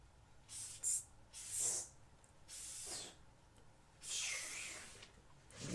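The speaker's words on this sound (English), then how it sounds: "Actually, I think I will spray my container first." Silicone spray hissing into a plastic paint container for acrylic pouring, several short and longer bursts close by, fairly quiet.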